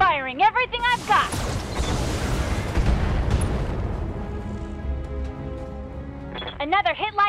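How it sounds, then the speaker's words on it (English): A barrage of weapon fire and explosions in a video game battle between Locusts and a King Crab produces a long, dense, roaring blast that swells and rumbles for several seconds, with synthetic voice-like chirps before and after. "Firing everything I've got."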